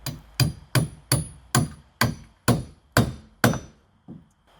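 Carriage bolts are hammered into deck wood with eight sharp, evenly spaced blows followed by a softer final tap, loud and close with no talking.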